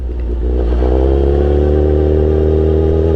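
A drag racing motorcycle is held loud and close at high revs for a launch, its engine note climbing slightly and then holding a steady strained roar for about three seconds.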